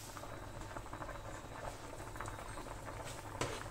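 Pasta cooking in a pot of boiling water in a home kitchen gives a soft, steady bubbling and patter at low volume, with faint clinks near the end.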